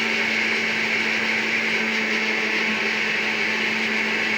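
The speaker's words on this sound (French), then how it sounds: "Voilà, on va bien mixer." Steady, loud whirring drone of an electric mixer beating cake batter, continuous and unchanging throughout, with no talk.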